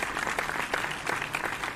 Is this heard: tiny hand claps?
yes